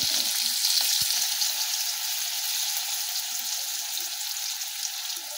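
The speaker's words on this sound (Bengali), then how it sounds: "আমগুলোকে একটু ভেজে নেব আমরা।" Mango pieces fry in a pan with oil for chutney, producing a loud, continuous close hiss and sizzle broken by an occasional faint tap of a utensil. Nobody talks.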